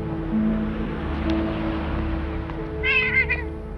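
A cat meows in a scene from the 1978 Superman film, a short cluster of high mews near the end over a steady low ambient hum and rumble, with no talk.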